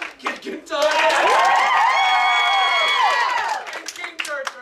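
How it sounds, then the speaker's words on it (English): An improv comedy audience claps and cheers at a live show, a loud sustained burst of applause with whoops that swells, holds and then tapers off into scattered claps. "So who wants to see Sue Ellen's game by round of applause?"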